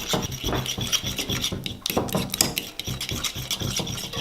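Yogurt being stirred with garlic cloves for an Aleppo eggplant dip, a steady wet scraping and rubbing of a utensil against a bowl that continues throughout at close range.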